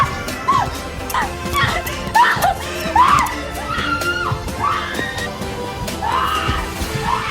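A terrified girl screams in short shrill bursts amid a tense, noisy film scene, with other cries, yelps and background commotion around her.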